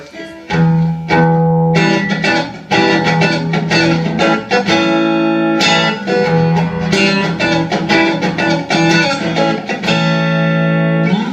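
Electric guitar plays the bridge of a song, with loud distorted strummed chords in a driving rhythm over about eleven seconds, pausing briefly between phrases, and no voice.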